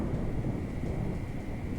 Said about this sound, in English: this is the thunderstorm